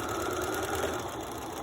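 Sewing machine back-stitching fabric for a face mask, a continuous even motor hum and needle rattle, steady and close, with no voices.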